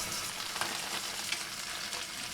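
Chorizo and ground beef fry in a hot pan, giving a steady, dense sizzle that holds at an even level throughout, with faint crackles and a light stirring scrape near the start.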